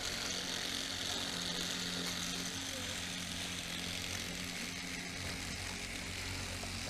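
Four magnetic rotors spin together in synchronized opposite rotations, producing a constant whirring drone with steady hum tones, fairly loud and unbroken throughout.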